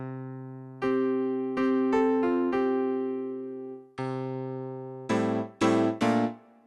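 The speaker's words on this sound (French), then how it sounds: "nous retrouvons tous les sons du RD1000 aussi dans le RD2000 et le RD2000EX" Roland RD-2000 stage piano playing its RD-1000 piano sounds, with sustained chords and single notes ringing clearly, then a few sharper, brighter struck chords at the end, solo with no voices.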